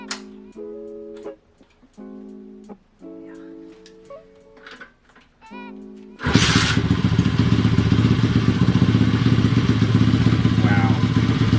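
A Honda CT70 motorcycle engine starts abruptly and runs steadily and loudly, near and unbroken, after a stretch of tonal sounds and knocks.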